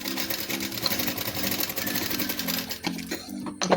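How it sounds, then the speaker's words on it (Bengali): A sewing machine stitches a gathered nightie in quick rhythmic bursts, with a brief slowdown before running on, loud and near with no voices. "আবার অপর প্রান্তটাও আমি এই রকমভাবেই সেলাই করে নেব"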